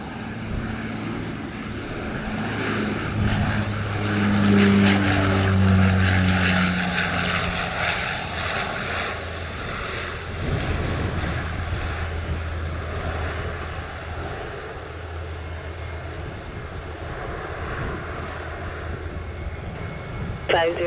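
Fixed-wing airliner landing at Montego Bay airport, Jamaica: a loud, broad engine roar that swells and then slowly fades over twenty seconds, with tower radio chatter and voices talking over it.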